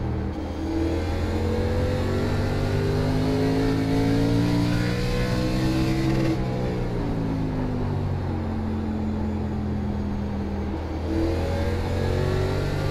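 Race cars bunched in traffic during a simulated K&N National Series race at Stafford in iRacing, engines droning and shifting pitch together in a steady, loud mix of overlapping motors with no talk.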